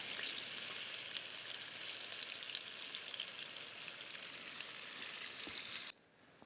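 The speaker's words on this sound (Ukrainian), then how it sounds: "Щучка маленькими шматочками, вона взагалі швидко прожарюється." Pike and crucian carp pieces sizzle in a pan outdoors by a wild forest lake, a steady, fairly quiet crackling fry that runs evenly and then cuts off abruptly near the end.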